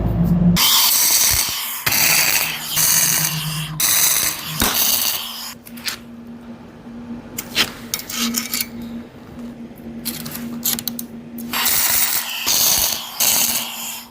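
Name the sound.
tack welding an excavator boom extension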